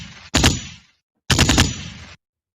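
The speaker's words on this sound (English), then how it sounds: "it can do things like gunshot" A podcast sound machine fires two loud gunshot effects about a second apart, each a sharp crack trailing into a short rumbling burst, with no talk over them.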